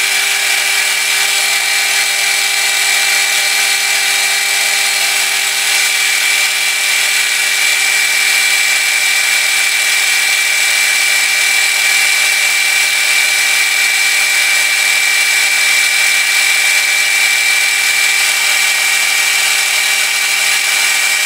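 A machine cutting the outside diameter of copper injector washers, taking off half a millimeter, gives a steady, continuous high-pitched whine. It runs unbroken and fairly loud throughout, with no talking.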